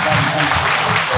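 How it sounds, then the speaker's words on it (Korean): An audience at an education policy briefing session in Busan claps in a dense, loud burst of applause, a steady wash of many hands filling the room. "한번 더 내려오셔 달라고 박수 한번 주시겠어요?"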